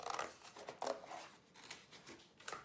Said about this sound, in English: I found a piece of cardboard out in my recycling bin. And I'm just going to go ahead and cut